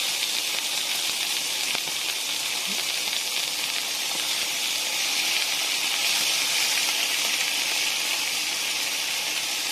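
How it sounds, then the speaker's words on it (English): Whitefish laid into a hot pan, giving a loud, steady hiss of sizzling oil and steam that holds evenly throughout with no pauses. "We're going to lightly put it in the pan like this."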